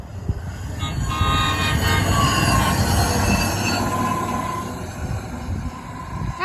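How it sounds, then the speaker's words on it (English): Hi-rail truck running on railroad tracks, its steel wheels squealing and grinding loudly as it rolls past nearby, with a steady rumble beneath. "This is like the third high rail of the day. Lots of high rail trains today. Well, high rail trucks, actually."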